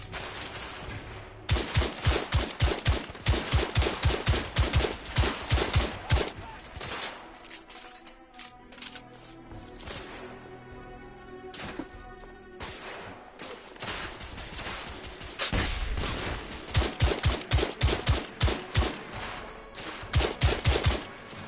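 Gunfire from The Order: 1886 video game, bursts of rapid rifle and machine-gun shots in two loud clusters separated by a quieter stretch with scattered single shots.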